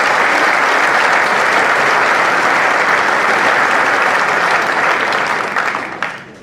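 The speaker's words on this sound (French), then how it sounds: "Vous pouvez applaudir monsieur Bigot." A crowd at a mayor's New Year reception applauds the ITER director, loud, sustained clapping up close that tapers off near the end.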